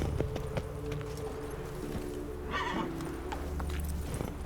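A horse neighs and trots in The Witcher 3, with a whinny over steady clip-clop hooves and jangling tack, all fairly quiet and close with no talk.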